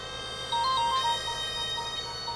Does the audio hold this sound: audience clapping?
no